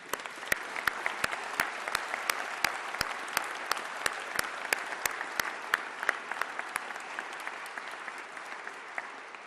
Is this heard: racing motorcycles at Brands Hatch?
no